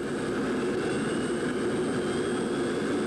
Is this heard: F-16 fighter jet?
yes